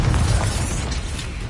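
Confringo blasting spell from Hogwarts Legacy bursting in a loud, close explosion with a dense low-end boom that holds steady for its whole brief length, with no speech.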